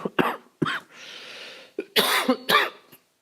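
A man with a cold and a stuffy nose coughs several times in short, harsh bursts. The coughs come close up and loud, with a breathy pause between the groups, and no words are spoken.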